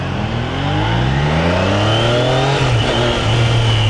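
A Triumph Daytona 660 motorcycle engine drones loudly and closely while riding, its pitch climbing smoothly through the revs and dipping briefly as it shifts, with steady wind noise underneath.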